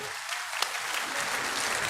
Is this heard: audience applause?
yes